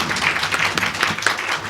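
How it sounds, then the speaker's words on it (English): Guests at a thanksgiving dinner clap for themselves, a brief burst of scattered hand claps filling the room, moderately loud and without speech. "Please, let's clap for ourselves."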